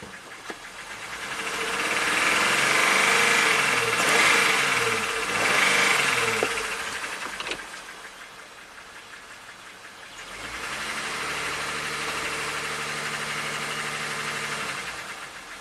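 A 2019 Jeep Rubicon's Pentastar V6 with a misfire, idling rough with an uneven, shaking drone up close, swelling louder for a stretch, then settling back to a lower, unsteady idle.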